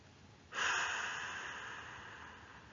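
A strong exhale forced out through the mouth during a sophrology relaxation exercise starts abruptly as a loud breathy rush and then slowly fades, alone against faint room noise.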